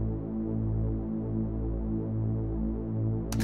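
A weird, distorted synth bass for a techno track throbs in a low, steady, buzzing tone that pulses slowly in volume, played alone with a brief click near the end.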